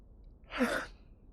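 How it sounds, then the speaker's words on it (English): A single human yawn, one breathy rising-and-falling exhalation lasting under half a second, close and fairly quiet over a low room hum, with no talk. "gotta yawn."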